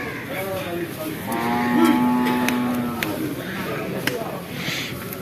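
A water buffalo gives one long, low moo amid the steady murmur of a busy outdoor cattle market crowd, with voices chattering nearby.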